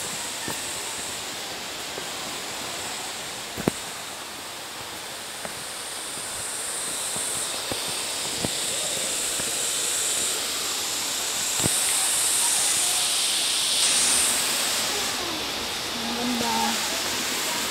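Ng Tung Chai waterfall, the highest in Hong Kong, gives a steady hiss of falling water heard at moderate loudness throughout, with occasional faint knocks and sounds of people nearby.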